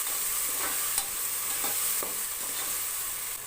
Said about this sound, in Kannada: ಇವಾಗ ಇದಕ್ಕೆ ರುಬ್ಕೊಂಡಿರುವಂತಹ ಮಸಾಲೆ ಹಾಕೋತಾ ಇದ್ದೀನಿ ಸ್ವಲ್ಪ ಮೇಲೆ ಹೋಗೋವರೆಗೂ ಇದನ್ನು ಚೆನ್ನಾಗಿ ಹಿಂದಿನ ಫ್ರೈ ಮಾಡ್ಕೊಳ್ಳಿ